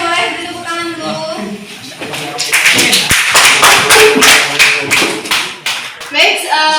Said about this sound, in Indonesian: Kelompok 3 boleh tepuk tangan dulu.